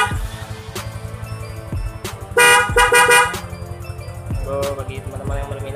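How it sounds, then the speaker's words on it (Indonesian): A Denso waterproof horn fitted to a Yamaha Vixion motorcycle sounds in loud honks, one sustained blast in the middle between shorter toots, over the idling engine's steady pulsing putter. "ini pemasangan klakson Denso waterproof di motor Yamaha Fiction."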